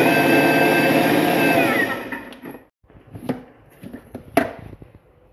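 Food processor grinding almonds, a loud steady whirring motor that winds down after about two seconds, followed by a few scattered knocks and clatters.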